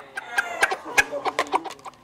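Fighting roosters cluck in a rapid, uneven series of sharp calls, close and fairly loud, with a voice speaking faintly beneath.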